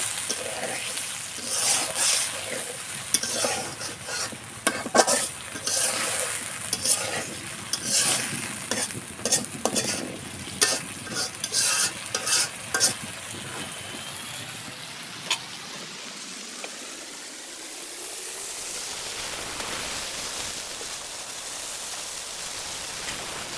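Egg curry masala for dimer bhuna is stir-fried in a pan, with rhythmic scraping strokes over a sizzle for about fifteen seconds, then a smooth rising whoosh and a steady hiss to the end.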